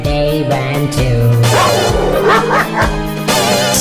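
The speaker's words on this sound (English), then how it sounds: "A dog barked at them and they ran too." Dog barks woven into a Halloween children's song about monsters, short yips and bow-wows sounding repeatedly over steady music with no talking.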